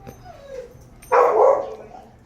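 A dog named Jacoby gives a whine and then one loud, close bark, with a short whimpering tail after it.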